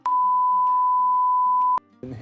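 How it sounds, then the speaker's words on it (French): A single steady electronic censor beep added in editing, loud and flat for nearly two seconds, cutting off abruptly before a voice briefly resumes. "on va biper la question en montage"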